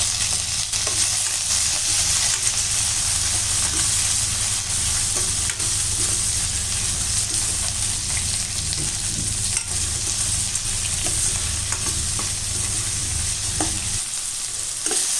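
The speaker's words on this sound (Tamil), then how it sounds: "இப்போ இந்த பூண்டு, வெங்காயம், தக்காளி இதெல்லாம் நல்லா வதங்கிடுச்சு." Garlic, onion and tomatoes sauté in a pan for a Tamil black-eyed pea and brinjal curry, giving a steady close sizzle with stirring scrapes throughout that drops off near the end.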